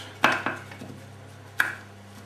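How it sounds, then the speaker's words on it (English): Fresh rosemary chopped with a knife on a board, giving three separate sharp knocks with a short gap before the last, close and without talk, over a faint low hum. "The rosemary, just going to chop that."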